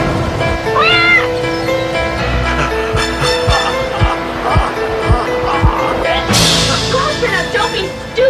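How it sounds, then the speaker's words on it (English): A cat meows in a horror movie trailer, a few rising cries early on over a busy mix of dramatic music, low thuds and voices, with a whooshing surge near the end. "A poisonous cat."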